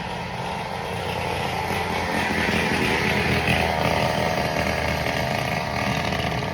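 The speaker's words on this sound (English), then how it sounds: "let me let this little moped drive by" A small moped-style motorbike rides past close by, its loud, steady buzzing engine filling the whole stretch with no talking.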